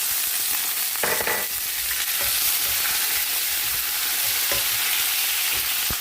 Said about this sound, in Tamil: இப்போ நம்ம கருவேப்பிலையும் பச்சை மிளகாயும் போட்டுடலாம்.